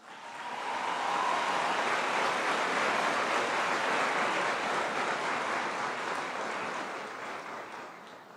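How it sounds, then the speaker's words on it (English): An audience at a 2025 graduation ceremony breaks into sustained applause, a dense wash of clapping that rises quickly, holds steady for several seconds, then slowly tapers off. "I think that deserves a round of applause"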